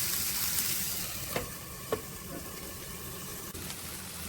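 Ingredients for nalleru (veldt grape) chutney frying in a covered pan on low heat, giving a steady close hiss with a couple of faint clicks and a soft knock.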